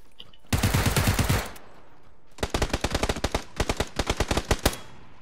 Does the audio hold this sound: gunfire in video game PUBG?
yes